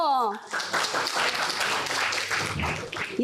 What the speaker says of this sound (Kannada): ನಿಮ್ಮ ಚಪ್ಪಾಳೆ ಬರಬೇಕು.